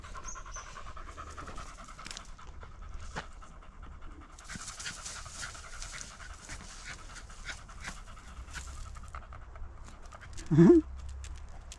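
A dog pants steadily and quickly at close range, a soft continuous huffing under a light background hiss, with a brief louder vocal sound near the end.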